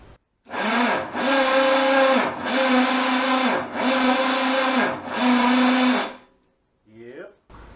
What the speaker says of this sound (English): So when I turn the motor over, it should turn over pretty easy because all the spark plugs are out except for one.